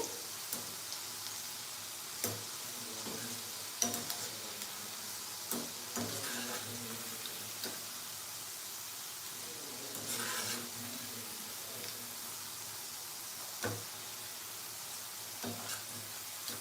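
Okra (bendi) frying in hot oil gives a faint, steady hiss with occasional soft pops and crackles, heard alone in a quiet home kitchen.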